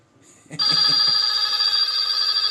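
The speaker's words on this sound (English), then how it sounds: "you got a weird deal when your bathroom is ringing" After a moment of faint shuffling, an electronic telephone in a bathroom starts ringing abruptly and keeps ringing loud and close without a break.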